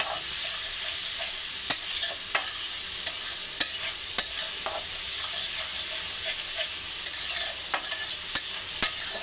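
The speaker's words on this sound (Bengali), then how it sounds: "এখন আমি একটু ডালটা সুন্দর করে মশলার সাথে মিশিয়ে নেব" Masoor lentils are stirred with spices in a frying pan for a dal and pui shak dish, a soft continuous sizzle broken by sharp scraping and tapping strokes of the spoon at irregular intervals.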